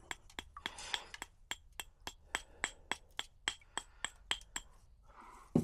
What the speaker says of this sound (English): by using that welding hammer just now, I was able to knock off some of this